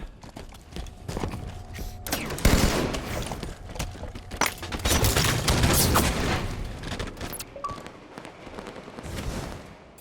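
Gunfire in the video game Halo 5 rattles in rapid bursts and scattered shots, mid-distance and dense, with busy in-game effects between volleys.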